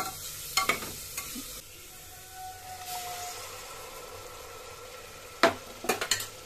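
Bay leaf and dried chilli temper in hot oil with a soft steady sizzle, broken by a few sharp spoon clanks and scrapes against the pan near the start and end.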